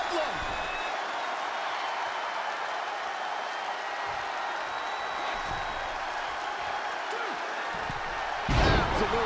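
Wrestling arena crowd in the video game WWE 2K20 roars in a steady, dense wash of cheering and noise throughout, with a louder surge near the end while a commentator talks over it.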